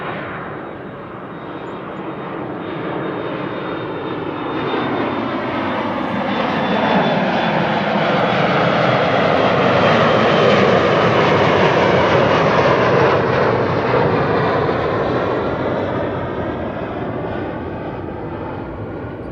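A KLM Embraer 175 jet takes off from Amsterdam Schiphol, bound for Bremen. Its loud engine roar swells toward a peak midway, then slowly eases off, with no talk.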